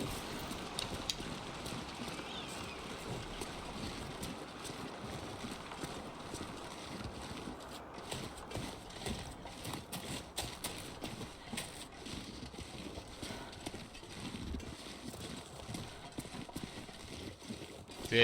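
Strong wind in the video game The Long Dark, a continuous blustery gusting rush with crackly buffeting, fairly quiet and steady, no speech.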